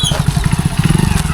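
Motorcycle being ridden slowly through a tight turn, with a close, steady, low thumping engine pulsing rhythmically and no talking over it.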